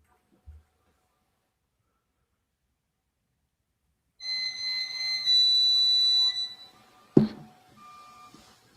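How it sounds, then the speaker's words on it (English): A driveway alarm goes off indoors, a sustained electronic beeping tone lasting about two seconds, followed by a sharp knock and faint lingering beeps in an otherwise quiet room. "It's my driveway alarm just went off."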